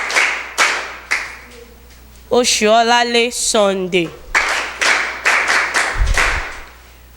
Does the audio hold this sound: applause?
yes